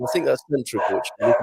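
A dog barks indoors at home after a knock at the door, its yips mixed in with a person talking continuously over it.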